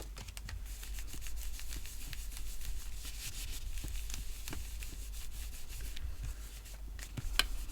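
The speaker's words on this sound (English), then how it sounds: "I'm just rubbing that from behind because I don't want to rub off the Spritz or any of that stuff" Fingers rub and scrape across the back of a paper card panel in a crafting session, a soft, continuous close scratching with quick ticking strokes over a low hum.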